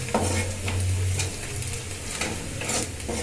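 Onions frying and being stirred in a pan, a steady close sizzle with scraping stir strokes throughout.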